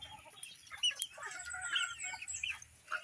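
Pet chickens waiting to be fed cluck and chirp faintly in a backyard, with short, irregular calls overlapping in quick succession.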